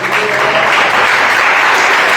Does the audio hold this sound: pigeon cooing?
no